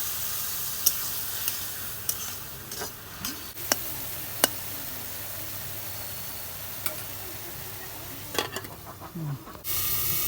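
Eggplant stir-fried in a pan for a small-fish curry gives a soft steady sizzle and hiss, with scattered sharp clicks of a utensil against the pan, heard close without speech.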